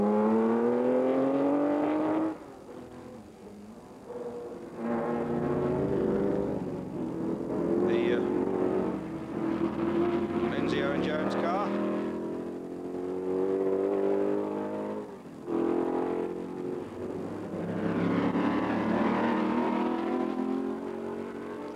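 Historic Lola T70 race cars from the late 1960s racing at the Montlhéry circuit, their engines droning and revving steadily beneath continuous commentary.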